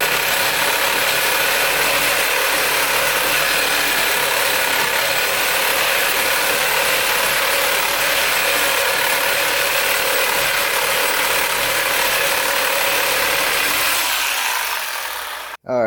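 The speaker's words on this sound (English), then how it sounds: "I got the first 4 holes drilled" A drill bores holes in a steel motor mount plate for a 5.3 engine swap, a continuous harsh grinding whine held loud and steady for the whole stretch, then cutting off abruptly at the end.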